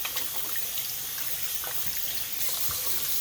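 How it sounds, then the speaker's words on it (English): Tap water runs steadily into a sink while hands are rinsed of soap, a close, constant splashing stream with small shifts in the flow and no talking. "So let's go ahead and rinse our hand."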